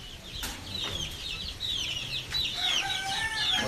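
Backyard chickens cluck in short bursts and chirpy calls, with chicks peeping around them, close and moderately loud over a light outdoor background.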